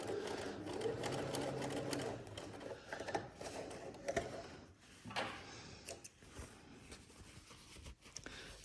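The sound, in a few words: Bernina B335 sewing machine sewing a gathered seam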